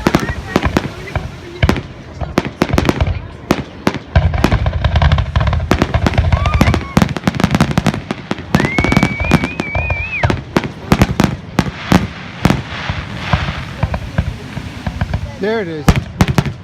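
Fireworks burst at night on a beach near an arcade: rapid, loud crackling pops and bangs come one after another throughout, with whistling rockets rising, and people talk and exclaim over the noise.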